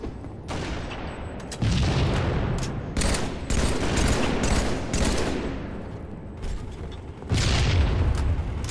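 Rapid gunfire in a multiplayer shooter game, loud repeated shots with booming blasts in close succession, a near-continuous barrage with brief pauses and no talk.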